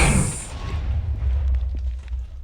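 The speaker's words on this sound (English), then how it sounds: "look at the explosions happening" A deep, booming explosion in Minecraft combat, from the FTB Revelations modpack, starts with a sharp blast and rumbles off in a low, fading roar over a couple of seconds.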